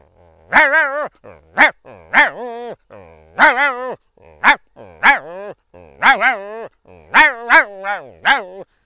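A voice imitates a female dog with a series of short, sharp barks and yips, about a dozen in an uneven rhythm, loud and close.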